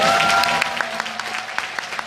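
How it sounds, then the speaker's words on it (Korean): Audience applause at an outdoor rally during a signing ceremony, sustained crowd clapping with sharp individual claps standing out, and a faint steady tone beneath. "사인하실 때 큰 박수 보내주실까요?"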